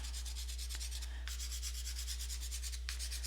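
Rapid pastel strokes rubbing and scraping across a gritty acrylic pastel ground, a steady dry scratchy rasp with a few brief pauses between strokes, close and alone without talk.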